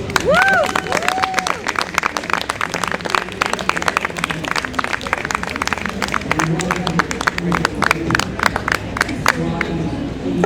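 An audience at a poetry festival reading in New York City applauds steadily, dense clapping throughout with some cheering, filling the whole stretch at a fairly loud, even level.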